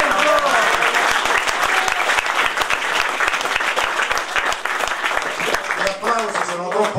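A council chamber fills with loud, sustained applause from the audience at a joint municipal council meeting of Rotonda and Viggianello, dense clapping that carries on for seven seconds while voices talk beneath it.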